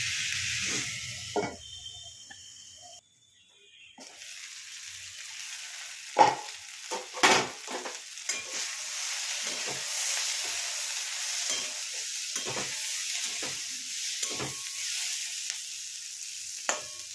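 Potato and capsicum cook slowly in a covered pan, a faint hiss of steam and low sizzling running under scattered clinks and knocks from the lid and pan.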